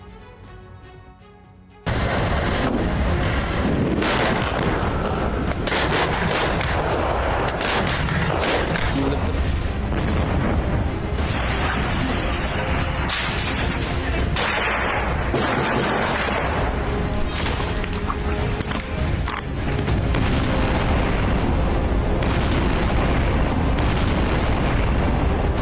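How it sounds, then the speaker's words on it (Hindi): Dense, continuous booming of artillery explosions and blasts from the Russia–Ukraine war, loud and layered without letup, with a voice talking over parts of the din. "सत्ताईस दिन से लगातार धमाकों से दहलती जमीन"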